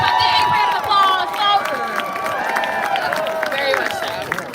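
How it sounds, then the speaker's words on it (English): A crowd at a Democratic rally in North Carolina claps and cheers continuously with scattered shouts, fairly loud and dense throughout. "Y'all give him a big round of applause"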